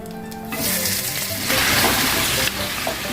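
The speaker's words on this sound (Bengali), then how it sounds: "এবার মাংসটা ভাজা ভাজা করি," Boiled meat frying in ghee in a pan makes a loud, steady broadband sizzle that swells after the first half-second and carries on without a break, with a brief hiss from water or stirring in the background.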